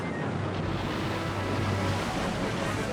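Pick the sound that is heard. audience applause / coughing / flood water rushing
flood water rushing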